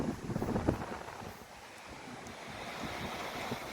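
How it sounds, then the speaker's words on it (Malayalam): Wind at the Kannur lighthouse buffets the microphone in a constant rough roar, with sea surf washing faintly underneath. "കടലിന് കാറ്റ് വല്ലാതെ"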